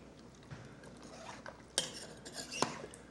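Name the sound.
stirring food in a pot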